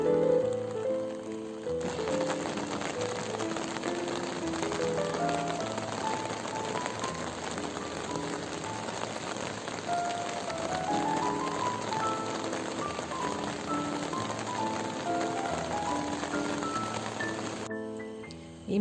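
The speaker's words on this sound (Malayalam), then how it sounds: "അപ്പോൾ നല്ല മഴയായിരുന്നു കേട്ടോ" Heavy rain pours steadily at a forest elephant viewpoint in Kerala, a dense even hiss of drops drumming on surfaces throughout, with a faint tonal hum beneath.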